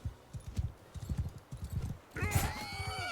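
Horse in Mount and Blade 2 Bannerlord, steady clip-clop of hooves at a trot, then a loud whinny breaking out over the hoofbeats near the end, close and clear.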